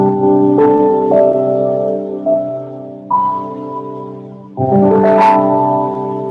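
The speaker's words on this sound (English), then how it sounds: "C playing the cycle of fifth or C at different fifth intervals sounds like this." A sequence of sustained harmonic tones stepping through the cycle of fifths from C, each note ringing with a bell-like, organ-like timbre, with clear changes of pitch near the two-, three- and four-and-a-half-second marks, played alone and fairly loud.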